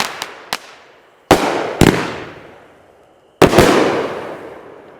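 Firework cake going off outdoors: a string of sharp cracking bursts, a few quick pops followed by three louder booms, each trailing off in a fading crackle, with no voices.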